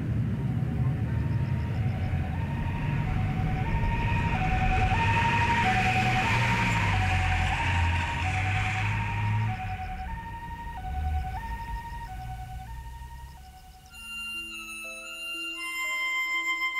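An ambulance siren wails in a steady two-tone pattern for about fourteen seconds over a low rumble, loud and close, then gives way to a short musical phrase in a Japanese audiobook reading.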